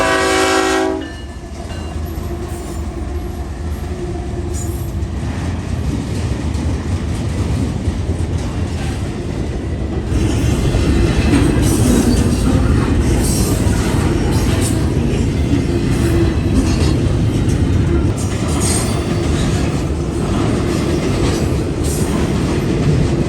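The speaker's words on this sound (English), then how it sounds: "He's a daily train out of North Baltimore, Ohio to Fairburn, Georgia" A daily freight train from North Baltimore, Ohio to Fairburn, Georgia passes through Carlisle, Ohio. A horn blast opens it, then a loud sustained rumble and clatter of cars rolls by close, with no voices.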